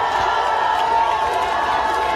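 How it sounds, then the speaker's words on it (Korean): A large crowd at an outdoor political campaign rally cheers and claps in a loud, continuous roar that stays even from start to finish. "여러분 격려의 박수 한번 보내주시면 대단히 고맙겠습니다."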